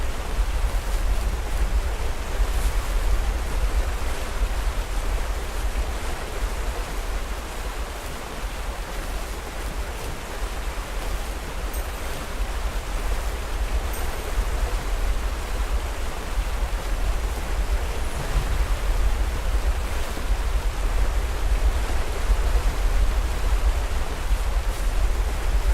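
A waterfall and flowing water rush steadily in The First Tree, a dense, unbroken roar of broadband water noise that holds at an even level throughout with no voices.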